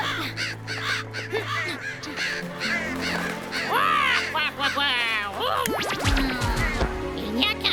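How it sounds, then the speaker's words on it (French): A crow caws in a series of loud, harsh calls mixed with scratching and other cartoon sounds, a voice chattering briefly between the caws. "Il n'y a qu'un seul corbeau ici, et c'est moi."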